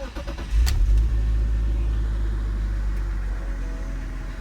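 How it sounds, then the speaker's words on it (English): A 5-speed BMW E36 328i, just given an oil change, starts and settles into a steady idle, a close, deep engine hum with no talk over it. "This engine should be a lot quieter and healthier sounding."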